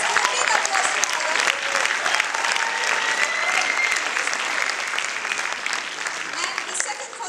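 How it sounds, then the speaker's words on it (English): Dense audience applause at a youth finance summit awards ceremony, a broad steady wash of many hands clapping that holds loud and even throughout, with faint crowd murmur underneath. "Let's give a big applause to Carla."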